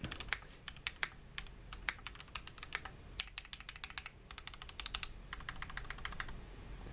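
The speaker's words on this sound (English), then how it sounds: "Spacebar doesn't sound too bad. Maybe a little bit clacky" Rapid, steady keystrokes clatter on a Keychron Q6 mechanical keyboard, a close run of crisp clicks that pauses briefly around the three-second mark, then resumes in dense bursts.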